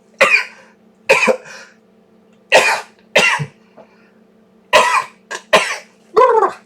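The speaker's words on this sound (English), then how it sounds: "that wasn't a cough, it's a sneeze" Roughly eight sharp, sudden sneezes come in quick bursts with short pauses between them, close to the listener over a faint steady background hum.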